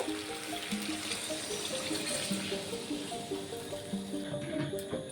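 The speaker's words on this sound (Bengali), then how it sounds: "এখন জল দিয়ে দেব" Water being poured into a Bengali chicken and chickpea lentil curry in the pan, a soft continuous splashing and trickling with faint background tones, quiet and steady for a few seconds.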